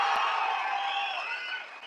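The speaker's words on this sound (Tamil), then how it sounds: "ஒரு பெரிய கைத்தட்டல் தரணும்" A large crowd claps and cheers at a political rally for Vijay's TVK party, a dense, steady roar of applause and whoops close by that holds for about two seconds without pause.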